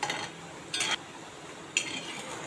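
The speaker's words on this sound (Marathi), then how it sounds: "मीडियम गॅसवर आणि एकदम खरपूस अशी भजी तळून घ्यायची" Spinach and moong dal bhaji deep-frying in oil over a medium flame, a steady soft crackling hiss with two short bursts of brighter sizzle or utensil stirring, fairly close and alone.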